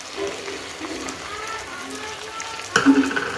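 Masala sautés in a pan for Bengali-style tadka dal, giving a steady close frying hiss with light stirring. A louder burst of sizzle and scraping comes near the end.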